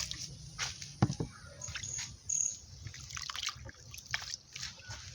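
Water trickles and drips into a pot in uneven spurts, close by, with faint birdsong in the background, in an African village while making agidi from corn.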